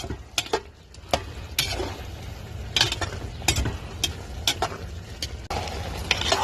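Ground beef with eggplant and okra stirred in a pan, a sizzling fry bed broken by repeated scraping and clanking strokes of a utensil against the pan, close and fairly loud with no talk.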